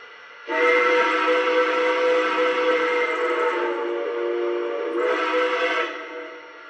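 A Lionel model of a New York Central Dreyfuss Hudson steam locomotive sounds its whistle in two loud, sustained chime blasts, a long one followed by a shorter one, with no voices.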